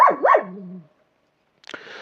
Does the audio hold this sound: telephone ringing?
no